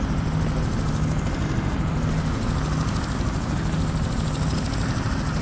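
A helicopter in the video game Just Cause drones steadily throughout, a constant low rotor and engine rumble with no talk over it.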